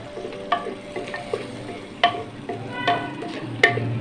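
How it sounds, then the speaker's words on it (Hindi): A spoon stirs yogurt into qeema palak in a pot, giving soft scraping and a quiet simmer with several sharp metallic clinks against the pot, and no one speaking. "ये अब इसमें डालेंगे और इसको फ़ौरन इसमें हम इसको चमचे से मिक्स करेंगे जब तक इसमें बॉयल ना आ जाए"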